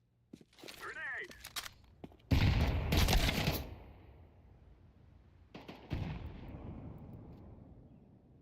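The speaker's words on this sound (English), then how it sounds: "Grenade." A grenade explodes loudly in a video game as a heavy, rumbling blast with a long decaying tail, followed a few seconds later by another burst of gunfire. A voice speaks briefly at the start.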